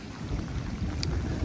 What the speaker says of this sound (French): je sais pas si vous entendez encore l'orage là, ça gronde de partout